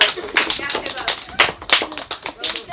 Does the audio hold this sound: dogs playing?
no